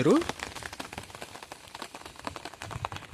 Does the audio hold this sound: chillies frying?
no